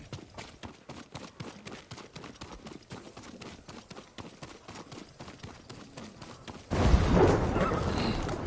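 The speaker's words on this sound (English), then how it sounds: "Good horse." Horse hooves clip-clop steadily in a PS4 video game, a brisk even rhythm of mid-loud hoofbeats before a sudden louder rush of noise near the end.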